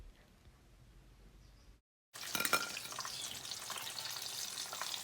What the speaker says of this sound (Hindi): चिकन लेग को फ्राई होने में थोड़ा सा टाइम ज़्यादा लगेगा क्योंकि ये अच्छी तरह से अंदर तक फ्राई होनी चाहिए